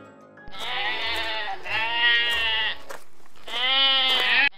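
Three drawn-out sheep bleats from an animated Bible film, loud and close, each a wavering harmonic cry lasting about a second, with short pauses between and no talk over them.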